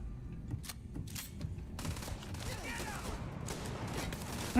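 Rapid bursts of gunfire in the video game Starfield, with sharp shots and short volleys spread across the span, mid-level under game ambience and moments of player voice.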